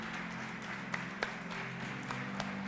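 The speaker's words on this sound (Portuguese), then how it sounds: "Vamos oferecer ao Senhor nossa melhor salva de palmas." A church congregation claps during a worship service, a moderate, even patter of applause over a steady low hum, with a few sharper claps standing out.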